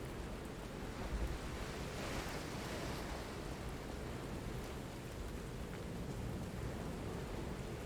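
Steady rain falls in a video game scene, a dense even hiss that stays fairly soft and unbroken, with no voices.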